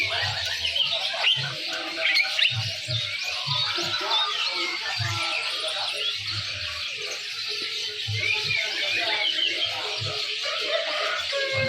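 Small birds at a bird market chirp and twitter in a dense, steady chorus of overlapping high calls, with soft low thumps underneath and no one talking.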